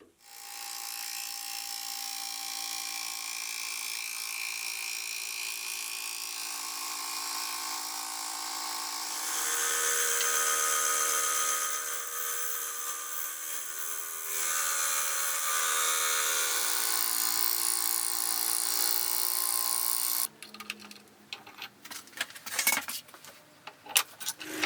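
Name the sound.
fly cutter on milling machine facing aluminium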